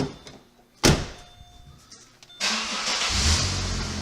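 A car engine starts on the first turn of the key after a sharp door thunk, catching quickly and settling into a loud, steady idle with a slight exhaust leak.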